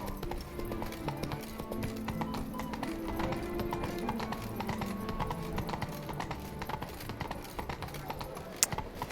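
Galloping horse hooves in The Witcher 3 give a rapid, steady clip-clop rhythm, moderately loud, under casual talk from players.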